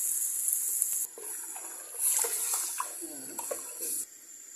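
Water poured into a pot of boiled black chickpeas for curry, a bright rushing splash that starts and stops in short bursts over a few seconds, close and fairly loud.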